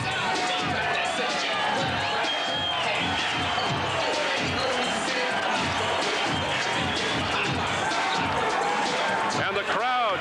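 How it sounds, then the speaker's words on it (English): Boxing arena crowd at a heavyweight bout roars and cheers steadily, a dense loud wash of voices and applause under a commentator's talk. "And the crowd saluting Evander Holyfield."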